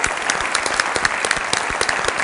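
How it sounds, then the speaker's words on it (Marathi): Dense, sustained applause from a large audience at a Satyamev Jayate Water Cup 2017 award event, loud and continuous throughout without talk. "त्यांच्यासाठी जोरदार टाळ्या."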